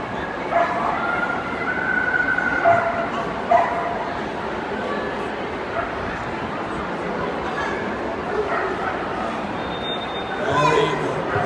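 A dog at a Crufts display team demonstration yips and whimpers in short bursts over a busy arena background, with a handler's voice speaking in between.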